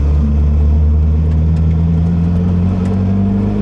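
A 1990 US-spec Ferrari F40 engine rumbles at a steady, loud idle with a deep low drone and slight rising pitch, close by.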